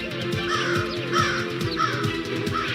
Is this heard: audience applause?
no